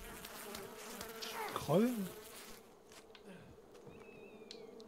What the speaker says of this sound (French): Et dégagez les abeilles là, putain.